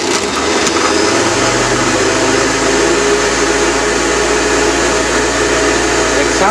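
A vintage Hoover vacuum cleaner switched on: its motor spins up quickly and settles into a loud, steady whirring roar close by.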